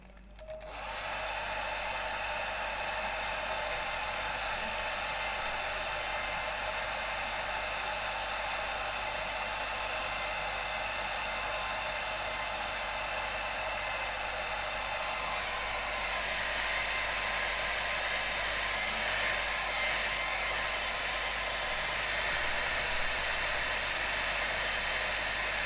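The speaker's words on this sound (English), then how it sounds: "Just going to get the hairdryer on this because of time." A hair dryer blows steadily on a wet watercolour painting, a loud continuous whooshing roar that starts abruptly and runs without a break, shifting slightly in pitch partway through.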